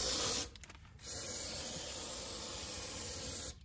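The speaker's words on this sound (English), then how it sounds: "I'm gonna just spray some carb cleaner" A steady aerosol spray of carb cleaner hisses continuously for about two and a half seconds after a brief short burst, close and fairly loud, during a Lincoln Continental fuel pump replacement.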